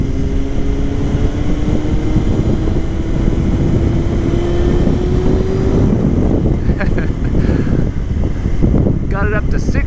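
A 1998 Honda CBR600F3 engine climbs steadily in pitch as it revs up toward about 6,000 rpm on a test ride, under constant loud wind rush against the microphone, with a faint voice in the noise.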